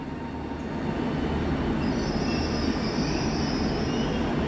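A TransPennine Express Nova 2 passenger train, unit 397009, roars past at Carlisle station with a loud, steady rumble of wheels on track and a faint high squeal, cutting off abruptly at the end.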